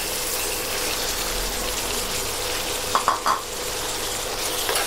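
Vegetables and hed phor mushrooms stir-fried in a pan give a steady loud sizzle, with a few sharp scrapes and clinks of a utensil against the pan partway through.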